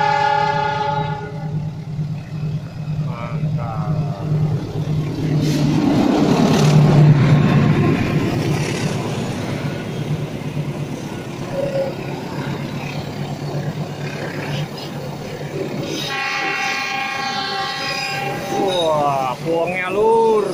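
A passenger train with a diesel locomotive on the Gongsol rail line roars as it climbs a steep grade at Tiber. The engine is loud and sustained, there are horn tones near the start and again toward the end, and the sound swells as it passes.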